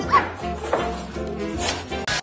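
A dog gives a yipping bark followed by whimpering whines, close and fairly loud over about two seconds, with a faint voice briefly underneath.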